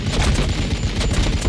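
Dense, rapid gunfire from a Warhammer 40K Chaos Space Marines battle game, continuous volleys and bursts crackling loudly without a break across the moment.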